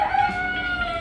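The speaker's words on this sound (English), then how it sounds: "Our neighbor's cock is replying back to him." A rooster crows nearby in a long, steady, loud call that fills the whole moment, with no voices over it, in a backyard flock setting.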